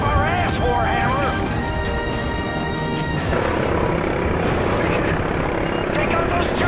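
Combat helicopters in the video game Call of Duty: Modern Warfare 3 thrum loudly and continuously under a shouted voice, overlapping a heavy rumbling burst midway.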